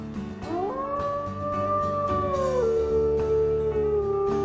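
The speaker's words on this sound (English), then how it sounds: "Oh, howling. Howl for me." Wolves howling in the video game WolfQuest, a long sustained howl that rises, holds steady, then drops lower, with other layered tones beneath, loud and continuous with no talking.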